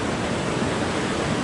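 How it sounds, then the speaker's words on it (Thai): Mekong River rapids at the Khone Phapheng falls roar as the water crashes against rocks, making a loud, constant, dense rush with no breaks. "เพื่อที่จะฟังเสียงความกระหึ่มของสายน้ำนะครับว่ากระแทกหินนะฮะ"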